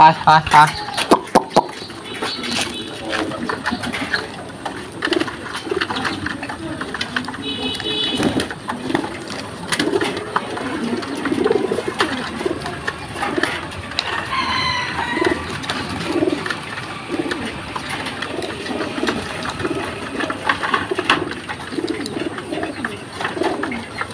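Pigeons coo repeatedly throughout, soft throaty calls layered over each other, with a person talking intermittently and some clattering in the background.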